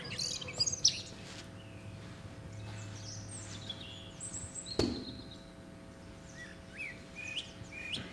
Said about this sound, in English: Some of the birds chirping in the background there about that one.